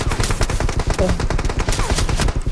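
Rapid automatic gunfire in PUBG Mobile rattles in a dense, loud, continuous stream of close shots, with faint voices underneath.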